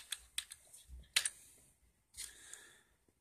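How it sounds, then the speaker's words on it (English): A computer keyboard being typed on, a few crisp isolated key clicks followed by a short burst, close and quiet with no speech. "I'm going to type in love."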